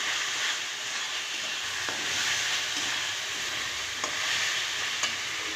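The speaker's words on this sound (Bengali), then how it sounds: "এবার ভালো করে কষিয়ে নেব" Onion frying with chilli and turmeric powder in a pan for a dried-fish curry, a continuous loud sizzle with occasional soft scrapes of a spatula, steady and close, no talking.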